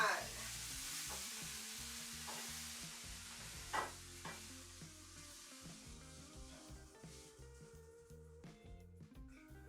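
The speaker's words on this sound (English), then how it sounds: "A dash of oil, then in goes my mushrooms." Mushrooms frying in a dash of oil in a pan give a steady close sizzle with scattered stirring scrapes and soft clatters, fairly quiet and without talk.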